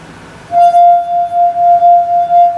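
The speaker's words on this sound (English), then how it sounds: "I'm causing this glass to actually sing" A steady, pure ringing tone from a wet finger circling a wine glass rim, rising in after a brief quiet start and holding with gentle swells.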